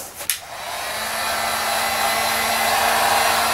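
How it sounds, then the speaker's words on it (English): A heat gun blows hot air onto craft foam to reshape it for wings. After a brief click at the start, a loud, steady, close whooshing roar runs continuously. "This foam works really well with a heat gun to change its shape."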